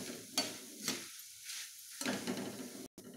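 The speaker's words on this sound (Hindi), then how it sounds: "थोड़ा थोड़ा करके पोहे हम फ्राई कर लेते हैं धीमी आंच पे।" Poha (flattened rice) fries in a little oil over low heat, a soft, steady sizzle broken by several stirring scrapes and a brief near-silent gap, with no voices.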